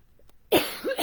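A single sharp cough bursts out close and fairly loud, followed by a quick second rough cough, after a moment of near silence.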